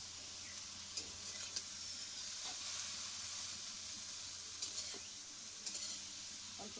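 Potatoes fry in a pan for a pumpkin leaf curry, giving a soft, continuous sizzle and hiss with a few faint spoon taps scattered throughout and no voices.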